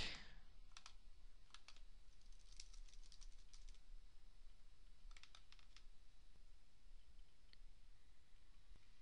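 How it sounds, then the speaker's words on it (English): Search terms are typed on a computer keyboard in a quiet room, with quick bursts of light key clicks near the start and again in the middle, then sparser taps over a faint background hiss. "So let me just type both of those things in here"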